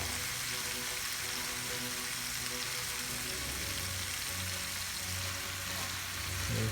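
Sauce and potatoes for saag aloo stirred in a hot pan, a soft, even sizzle with faint scraping and hum underneath, quiet and steady throughout.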